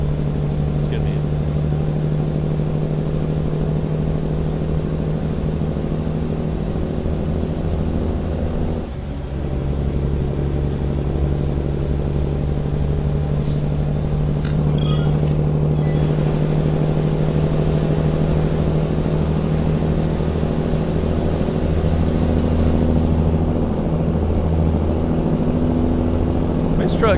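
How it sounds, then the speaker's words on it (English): A stretched-frame Peterbilt truck engine drones in a low, steady rumble with a constant deep hum, heard from inside the cab as it cruises, with people talking over it. "Truck sounds so good, man, back here, just like in a cruise, man."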